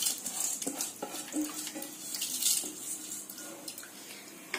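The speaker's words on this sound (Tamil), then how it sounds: "பிரஷர் ஃபேன் அடுப்புல வச்சுக்கோங்க அரை லிட்டர் தண்ணி சேர்த்துக்கோங்க" Half a litre of water pours steadily into a metal pressure cooker on the stove, a continuous splashing gurgle with small clinks, close by and fairly quiet.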